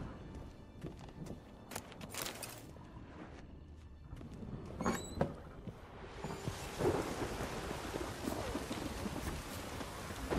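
A thunderstorm in The Witcher 3 video game: rumbling thunder and scattered cracks give way to a steady rush of heavy rain that swells and holds loud through the second half, with no talk.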